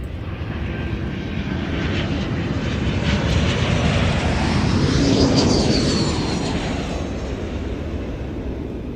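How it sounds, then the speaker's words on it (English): A rare aeroplane arriving at the Royal International Air Tattoo 2022 air show roars steadily overhead, its engine noise swelling and holding loud as it passes close by. "we waited around until around about 7:15 to get this very, very rare aeroplane coming in"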